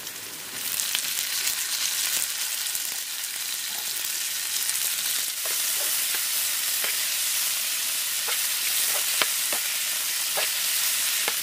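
Onions and tomatoes sizzle in a pan for an egg omelette cooked at a campsite by Bahiya Dam, Keonjhar, a steady close hiss with occasional stirring scrapes and no talk.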